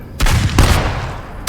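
Gunfire in a Dracula audio drama: two sharp, loud booming shots in quick succession, each with a short rumbling tail, close and prominent with no talk.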